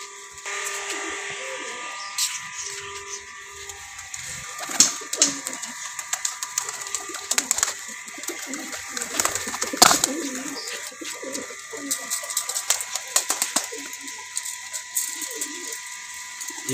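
Pigeons coo in a coop, soft repeated murmurs mixed with scattered flutters and clicks, close to the microphone over a faint steady mechanical hum.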